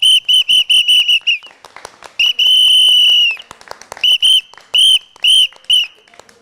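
A shrill whistle, the election symbol of a new political party, is blown in a series of short loud toots, one long sustained blast, then more short bursts, close and alone.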